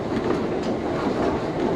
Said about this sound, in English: The train rolls along, jointed rail through farmland and patches of woods